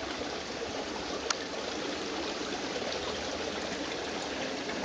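Spring water trickling into an outdoor pool of goldfish in the early morning, a steady close bubbling flow that runs unbroken throughout with one brief click.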